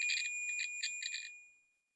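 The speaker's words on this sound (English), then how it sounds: "It'll start beeping if things are connected." A multimeter in continuity-test mode beeps while a DIY OTG cable is checked, giving a steady high electronic tone with short pulsed chirps that fades out after about a second and a half.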